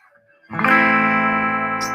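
A Fender Meteora electric guitar on its bridge pickup through a clean channel rings out a single strummed chord after a short quiet start, loud and sustained with a bright attack and slow decay.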